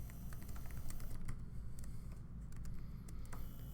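Quiet, fast typing on a computer keyboard while code is entered, with irregular key clicks in close succession and no talking.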